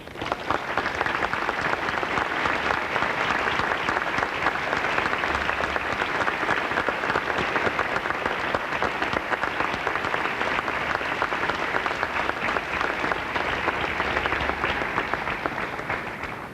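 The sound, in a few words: applause for graduates' families at commencement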